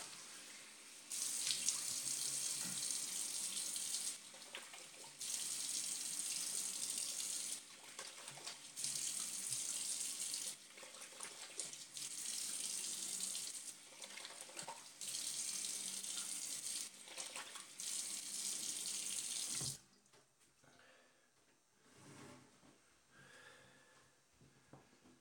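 A bathroom tap runs in several bursts of rushing water while someone rinses off after shaving, each stream stopping and starting, then falling quiet to faint dripping and breathing near the end.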